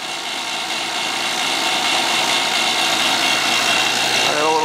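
Appion TEZ 8 HVAC vacuum pump running steadily with a loud, continuous motor drone and broadband hiss, no pauses or breaks across the stretch.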